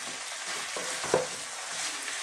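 Sliced white mushrooms cooking in a pan get a quick stir, a short scrape and clatter standing out over a steady, soft frying hiss.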